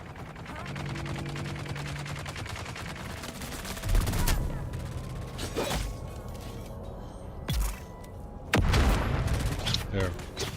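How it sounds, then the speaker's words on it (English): Sustained gunfire in the survival game Dune Awakening, a steady rattle of distant shots punctuated by a few louder booming impacts, with a voice speaking over it. "Guess they respawn, they're all shooting each other again."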